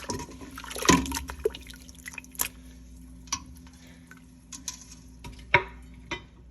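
Shrimp stock with shrimp heads, pepper, onion, celery and carrots being stirred in a pot, giving soft liquid sloshing and a few sharp utensil knocks against the pot at uneven intervals, close and fairly quiet.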